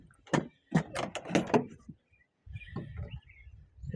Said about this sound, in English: I'll open up this door here